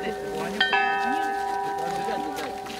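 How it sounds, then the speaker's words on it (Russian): Church bells are struck by visitors after a blessing of the bells, with one clear sharp strike ringing out over a long sustained hum of earlier tones, while someone speaks over the ringing. "После молебна все желающие могли попробовать себя в качестве звонарей."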